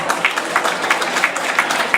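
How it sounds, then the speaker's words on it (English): Audience applause at a Lunar New Year celebration held by the San Francisco Shanghai association, heard as a steady patter of many hands over two seconds. A few sharper individual claps stand out near the front of the crowd. "Thank you, a round of applause."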